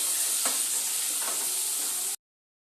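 Ginger and cumin paste fries in a pan with a steady bright sizzle, while a utensil stirs through it twice with soft scraping strokes before the sound cuts off abruptly.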